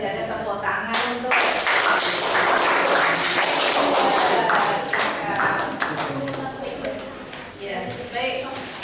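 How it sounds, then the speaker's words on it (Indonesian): An audience in a classroom claps together in a dense, sustained burst of applause that fills the room close by, then gradually thins and tapers off, with voices mixed in. "Kalau tidak ada, tepuk tangan untuk"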